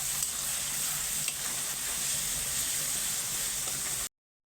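Garlic paste fries in a pan with a dense, even sizzle that stays close and steady throughout, then cuts off abruptly just before the end.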